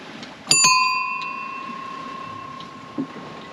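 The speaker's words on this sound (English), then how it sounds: "Everybody needs a bell on his boat, man." A bright bell on a sailboat rings twice in quick succession, its metallic tone ringing on and slowly fading, with a faint tap near the end.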